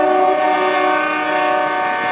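A CSX freight train led by C40-8W and C40-8 locomotives sounds a loud, sustained multi-tone horn chord, close and steady for the whole stretch with rail rumble beneath.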